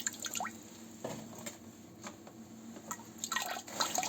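Flushing liquid drips from the heater radiator of a Daewoo Lanos after a cleaning flush, making faint, irregular drops and splashes against a low background.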